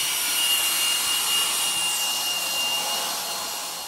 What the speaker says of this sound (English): Here we're using a HEPA-attached belt sander to really get down through that old paint down to a smooth surface.